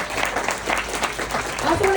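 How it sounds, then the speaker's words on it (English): A crowd applauds at a business mixer, the clapping close and steady with voices talking through it and a faint whistle near the end. "So let's give a round of applause to all of you."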